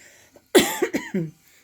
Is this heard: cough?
yes